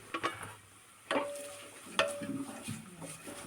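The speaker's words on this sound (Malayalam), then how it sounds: "ലോ ഫ്ലെയിമിൽ വെച്ചിട്ട് അടച്ച് വെച്ച് വേണം ഇതൊന്ന് വഴറ്റിയെടുക്കാനായിട്ട്" Chicken korma masala with green chili and curry leaves is stirred in a pan over low flame, with soft sizzling and scraping clinks of a spoon in irregular strokes, close and fairly quiet.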